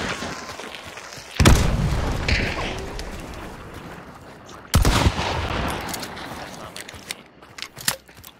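Two loud, close gunshots in Hunt: Showdown, each a sharp crack with a decaying tail several seconds apart, followed by smaller clicks and bangs.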